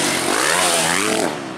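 A motocross race motorcycle at an MX2 final revs hard up close, a loud raspy engine note rising in pitch before easing off, brief and alone.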